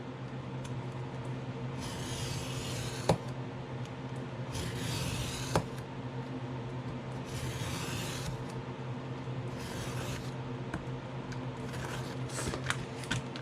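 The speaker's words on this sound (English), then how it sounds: "So all I'm going to do is start cutting through." Blade drawn along a ruler through a dollar store writing tablet, a close, steady rasping scrape in several repeated strokes with small clicks between passes.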